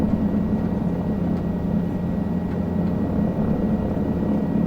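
Helicopter on a Brazil heli-tour from a private heliport, its turbine and rotors droning steadily and loudly as the throttle comes up, with a constant chopping rumble and no talk.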